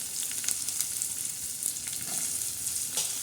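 Onion hitting a sizzling garlic tempering in the pan, a bright, steady hiss with small crackles throughout, fairly close and without voices.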